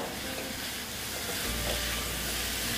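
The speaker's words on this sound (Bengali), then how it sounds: "এটাকে ভালো মতন আবার মশলার সাথে কষিয়ে নিচ্ছি" Mourola fish sizzles hard in a pan as it is stir-fried with spices, a dense, close, continuous frying hiss with occasional stirring scrapes.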